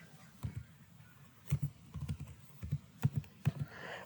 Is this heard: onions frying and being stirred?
no